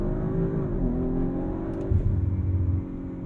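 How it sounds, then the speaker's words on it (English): Engine of a 2022 Audi RS5 Sportback with Quattro all-wheel drive, revving loud and steady from the cabin while held on the brake, then surging harder near the end as it launches from a standstill. "holding my foot hard on the brake and pinning the throttle. Then I'll release the brake."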